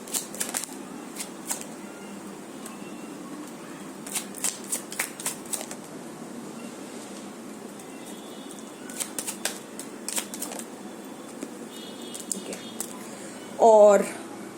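Tarot cards shuffled by hand in bursts of crisp riffling flicks, pausing between bursts, with a softer rustle near the end; a voice talks quietly in the background.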